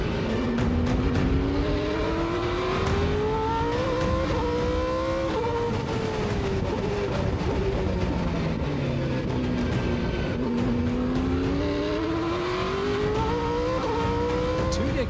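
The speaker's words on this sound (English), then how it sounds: "The howling Zytec V8, the heart of one of New Zealand's most famous race cars" A Zytec V8 in New Zealand's A1GP race car Black Beauty howls loudly and continuously, its pitch climbing and falling through repeated revs and gear changes, with no voices over it.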